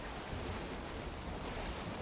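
Ocean waves and wind rush steadily around a boat sailing across open sea in the Viking survival game Valheim, a continuous, fairly soft wash of water with no talk.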